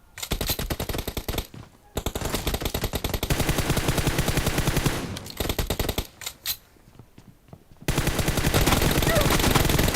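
Rapid bursts of automatic gunfire from PUBG rattle on in dense runs, broken by short pauses before another loud stretch resumes.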